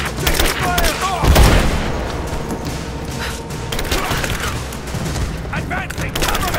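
Gunfire crackles through a firefight in Rise of the Tomb Raider: repeated shots and heavy impacts, including a loud booming hit, with splintering debris and shouting voices mixed in throughout.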